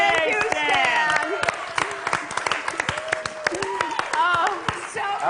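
A live stage show audience applauds tap dancer Stan Mason with steady, sustained clapping throughout, while a voice talks and sings over it.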